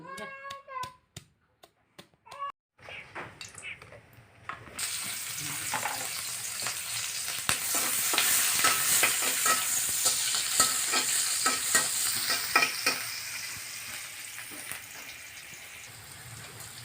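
Onion paste ground with dried chilies and cumin sizzles and is stirred with spices in a pan for a Bengali village-style rohu fish tomato curry, a loud steady fry with scraping strokes after a few quiet taps.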